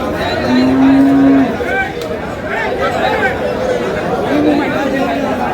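A bull calf at a rural cattle market moos in a long, loud low call, followed by shorter, fainter moos amid the chatter and crowd babble of the livestock haat.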